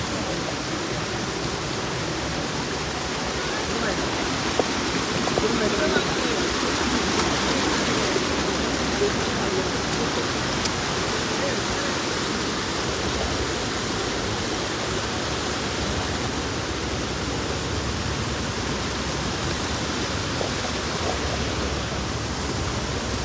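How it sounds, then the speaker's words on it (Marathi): Steady, loud rush of a fast mountain stream close by during monsoon in Tamhini Ghat, a continuous broadband roar with no breaks. "पाण्याचं पण प्रेशर खूप जास्त आहे. खूप जास्त पाण्याचं pressure आहे."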